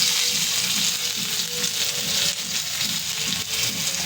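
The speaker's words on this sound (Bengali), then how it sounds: "এবারে দেখে নাও পেঁয়াজ দিচ্ছি" Onions tossed into hot oil for a shalik meat curry, frying with a dense, steady sizzle that holds loud and close for the whole stretch, with no voices over it.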